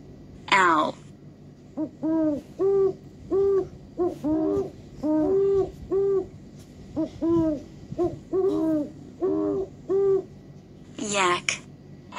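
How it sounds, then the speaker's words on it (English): A series of deep, rhythmic owl hoots, a dozen or so two-part calls evenly spaced, with a brief higher squeal at the start and end. "Owl."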